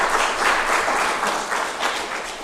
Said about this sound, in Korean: 네, 격려의 박수 다시 한번 드리겠습니다.